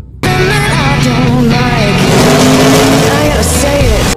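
A toy Lightning McQueen race car plays loud, close engine revving and racing sounds with rising whines and a tire squeal. Music and voices are mixed in, and the sound runs continuously throughout.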